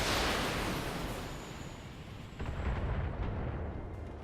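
Mech weapons firing in the BattleTech video game: a sustained, loud rumbling barrage of blasts that eases off, then swells again with a second heavy burst of explosive fire.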